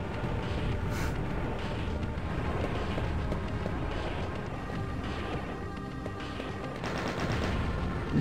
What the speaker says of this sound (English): it's an endless explosion